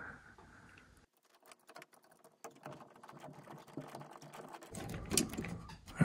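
Screws are tightened on the lamp cover of a Panasonic PT-AE8000 projector, making faint, close, irregular clicks and small scraping ticks in a quiet room.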